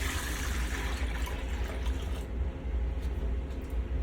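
A sink faucet runs steadily as a basin is rinsed out during a nursing-assistant foot care routine, a continuous close rushing splash with no talk over it.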